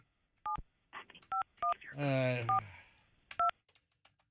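Touch-tone telephone keypad beeps: several short, crisp dual-tone presses spaced irregularly, with a voice speaking in the middle of the dialing.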